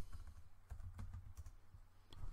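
Keys clatter on a computer keyboard in quick, irregular bursts of taps, close and fairly quiet, with no talking.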